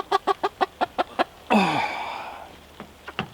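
A chicken in a newly built coop gives a quick run of about eight close, rhythmic clucks, then a longer drawn-out squawk, followed by a few softer clucks.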